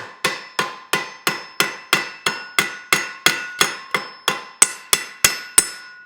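A hammer strikes a rivet on a forged metal wall sconce with about eighteen evenly spaced, sharp ringing blows, each one loud and close with a short metallic decay, and no talking.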